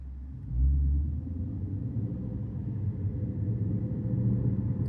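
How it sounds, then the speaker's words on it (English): A Lexus IS500 with a V8 engine in Sports Plus mode gives a deep, low rumble that swells sharply near the start, then holds a steady, throbbing drone as the car works through the gears. "just the shifting in between gears, the V8 just, oh, nothing sounds like a V8"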